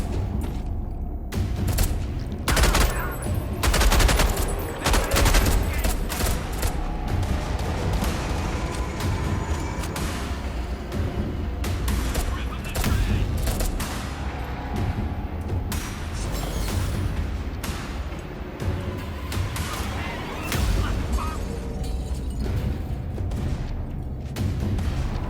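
Dense, sustained gunfire and booms from the horror shooter Beneath fill the whole stretch, loud and close, with rapid overlapping shots, heavy impacts and mechanical clatter running continuously without any talking.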